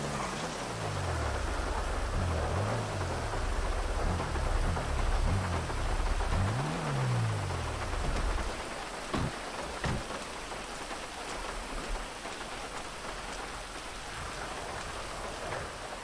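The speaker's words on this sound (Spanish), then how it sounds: "Cacho, que la lluvia, que está lloviendo de la nada." Sudden downpour with thunder near a public housing complex: steady, dense rain hissing on surfaces throughout, with deep rolling thunder rumbles early on and a couple of sharp cracks midway, no talk.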